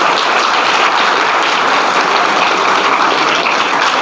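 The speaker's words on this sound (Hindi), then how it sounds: "तो लड़कियां अपने लिए तालियां बजा सकती हैं।" Schoolgirls in an audience at a government senior secondary school clap loudly and continuously, a dense, even roar of many hands filling the room with no talk.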